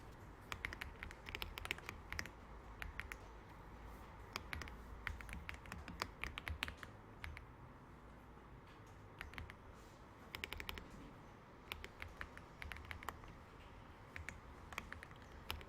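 Rapid clicking keystrokes on a computer keyboard come in uneven bursts with short pauses, close and fairly quiet, with no one speaking.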